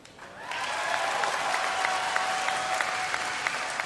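A large BlizzCon convention audience claps in sustained, dense applause that swells quickly and holds steady throughout, with faint crowd noise underneath.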